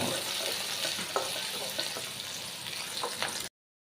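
Onion frying in a hot pan on a home stove, a steady close crackling sizzle with occasional stir clinks, cutting to silence at the end.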